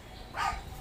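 A dog being bathed lets out a single short bark midway, moderately near, over a low background hum.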